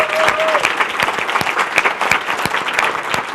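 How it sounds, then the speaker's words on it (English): A live comedy club audience at a chat show taping claps steadily and fairly close, with a brief whoop near the start rising over the applause. "Give yourselves a wonderful round of applause"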